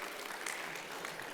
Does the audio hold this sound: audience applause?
yes